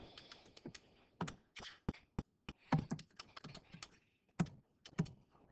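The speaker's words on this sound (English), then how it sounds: "type that in your calculator" Keys pressed on a calculator during a math lesson on margin of error, a quick irregular run of close plastic clicks and taps with short pauses between bursts, alone without talk.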